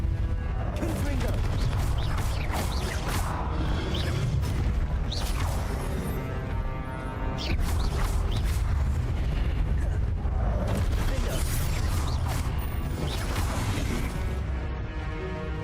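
Repeated blasting-spell explosions from Hogwarts Legacy burst out in loud, broadband booms at irregular intervals over a constant game soundscape, each crack followed by a rumbling tail.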